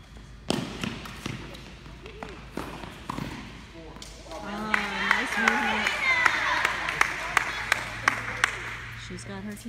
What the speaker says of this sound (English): She's got her team cheering for her.